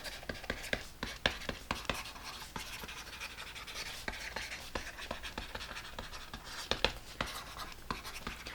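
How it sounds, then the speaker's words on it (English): A stylus scratches across a Quirklogic Papyr e-ink tablet in quick irregular strokes, a faint dry scratching close to the surface with no talking. "this is the sound of writing on paper"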